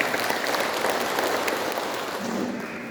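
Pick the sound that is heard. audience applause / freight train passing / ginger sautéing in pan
audience applause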